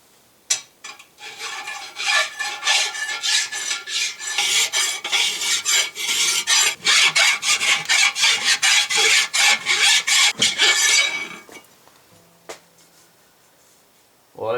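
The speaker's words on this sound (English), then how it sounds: "Filing." Hand filing on a Napco Spicer 23 transfer case, a rapid run of rhythmic rasping strokes, loud and close, that starts after a single knock and stops near the end, followed by a few faint clicks.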